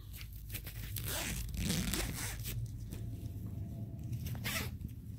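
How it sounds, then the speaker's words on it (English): Close, scratchy zipper being pulled in short rasping bursts, with faint crinkling, fairly quiet and alone. "And let's see if I can get this zipped up."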